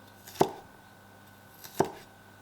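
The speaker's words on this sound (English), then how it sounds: "So you would just slice them into thin slices first." Two crisp knife strokes through pork against a cutting board, close and distinct, spaced about a second and a half apart, each a sharp thud with a brief tail, no talking.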